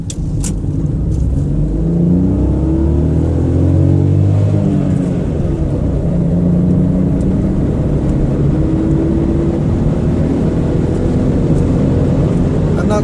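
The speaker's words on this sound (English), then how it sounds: "Let's do a 0 to 60 acceleration test." A 2001 Honda Insight first-generation hybrid accelerating hard from a standstill toward 60 mph, its engine droning loudly and rising in pitch through gear changes, with road and cabin noise throughout.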